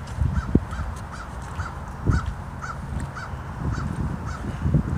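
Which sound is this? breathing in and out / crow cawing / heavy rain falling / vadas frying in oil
crow cawing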